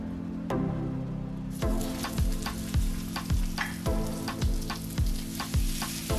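Extra virgin olive oil hitting a hot griddle, a sudden loud hiss that settles into steady crackling sizzle with repeated scraping and stirring taps, close up and without talk.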